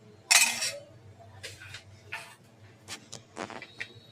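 Metal spoon clinks against a pan while oil is added for curry leaf powder, a few sharp separate ticks and taps close by with light kitchen clatter in between.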